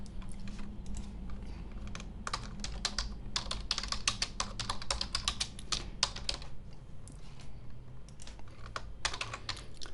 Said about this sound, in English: you can type in the title